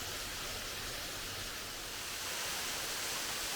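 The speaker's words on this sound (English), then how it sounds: "This really is a nice waterfall." A waterfall in Loyalsock State Forest gives a steady, dense rush of falling water that fills the scene evenly, loud and constant from start to finish with no other sounds.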